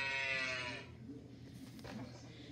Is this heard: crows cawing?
no